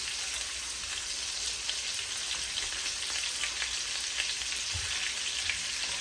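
BBQ meatballs made from a three-meat blend fry in a pan on a stove over medium-high heat, giving a steady, dense sizzle with scattered small pops throughout and no talking.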